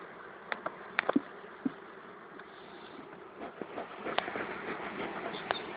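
Honey bees buzz around opened beehive frames, a faint steady insect hum with occasional louder passes and small clicks as frames are handled nearby, with no speech.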